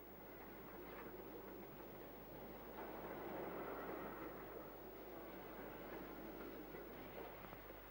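A train rolls over track sections, giving a low continuous rumble with faint rhythmic wheel clatter, heard at a moderate distance with no talk.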